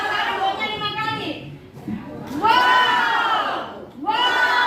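A crowd of children at an anti-corruption outreach session in Jayapura shouts "wow" in loud, overlapping bursts as part of a clap chant, with sustained group voices rising and falling across several shouts.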